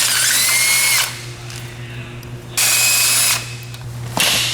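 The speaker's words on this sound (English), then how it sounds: "I think you broke the ratchet" A ratchet wrench on an old car drivetrain gives loud, close bursts of fast buzzing clicks, two long runs separated by a quieter gap, then a short final burst.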